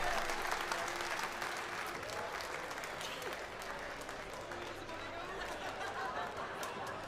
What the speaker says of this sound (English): Put your hands together for the 4 ladies there.